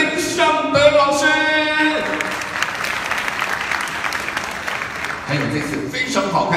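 A crowd at a music single release press conference claps warmly to welcome the producer, sustained applause with some music and a voice over the opening, fading slightly near the end.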